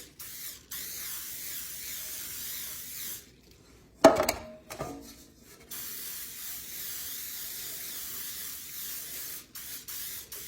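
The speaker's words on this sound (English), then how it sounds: "I just spray them really well, really generous with some non-stick spray." Non-stick cooking spray misted into cake pans: soft, airy hissing bursts with brief pauses between them, and a sharper clatter of handling in the middle.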